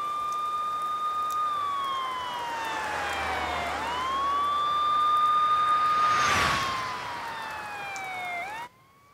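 A wailing siren rises and falls in long sweeps, loud and continuous, with a burst of noise near the end before cutting off abruptly.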